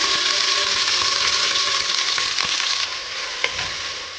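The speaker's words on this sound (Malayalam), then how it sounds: "വെളിച്ചെണ്ണ ചൂടായതിലേക്ക് ഒരു മൂന്ന് വലിയ സവാള സ്ലൈസ് ചെയ്ത് വെച്ച് കൊടുക്കുക" Three large sliced onions fry in hot coconut oil in a pressure cooker, a close, steady hiss and sizzle with a few soft stirring knocks, easing slightly quieter midway, no voices.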